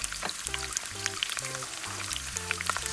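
Garlic frying in olive oil over low heat gives a steady, dense crackle and sizzle throughout, with a low voice-like hum running beneath it.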